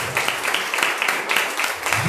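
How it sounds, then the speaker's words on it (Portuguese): Church congregation clapping during a worship service, a steady dense patter of many hands filling the room for about two seconds with no one speaking over it. "Aplauda o Senhor nessa noite"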